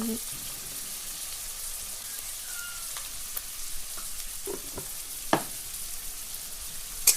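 Chira (flattened rice) frying in a pan with a little salt for pulao, a faint continuous sizzle with a few scattered scrapes and a sharper clink near the end.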